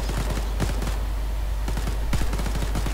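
Machine gun fire in Arma 3, set in 1944, comes as scattered short bursts and single cracks over a steady low rumble, with a sharper cluster of shots near the end.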